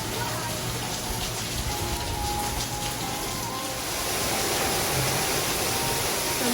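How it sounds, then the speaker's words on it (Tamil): Steady rain falls outside a home patio in the evening, a dense, even hiss of drops that fills the scene continuously and stays loud without pause or voices. "சும்மா மழை பெய்யுது."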